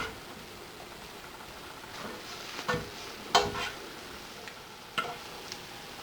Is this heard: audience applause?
no